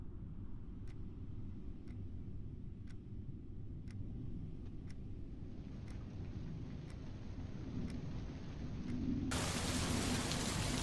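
Minecraft rain pours steadily as an even, continuous hiss of drops with soft periodic ticks, no voices, swelling noticeably louder and brighter in the final couple of seconds.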